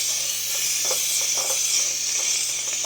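A steam cleaner set to full dry steam sprays continuously, giving a steady, fairly loud hiss that holds unbroken through the clip with no voices over it.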